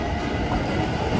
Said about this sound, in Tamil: பாருங்கள் ட்ரெயின் போகுது பாருங்கள்.